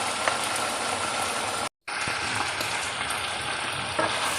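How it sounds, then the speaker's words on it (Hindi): Chicken frying in a pan with chopped green chilies, a steady close sizzle with stirring, broken by a brief cut of silence midway. "बहुत अच्छे से मैंने चिकन को फ्राई कर लिया है"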